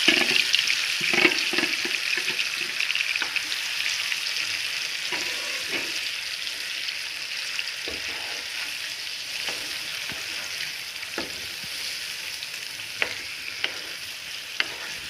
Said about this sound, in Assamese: একেখিনি তেলতে মই এইখিনি মেৰিনেট কৰি থোৱা মাংসখিনি